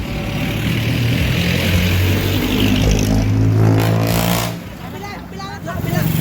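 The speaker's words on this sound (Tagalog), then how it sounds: "Kaya lang may sasakyan." A car rumbles by close in the open air, its engine drone rising and falling under continuous chatter from several people, with the noise dipping briefly near the end.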